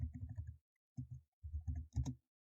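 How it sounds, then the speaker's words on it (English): Keys clatter on a computer keyboard as a command is typed, a quick run of close, soft clicks in short bursts separated by brief pauses. "In your command line, type Python -m pip"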